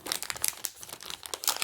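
Crinkly plastic packaging of jewelry beads being opened by hand, quick irregular crackles and rustles in short bursts, close and fairly soft.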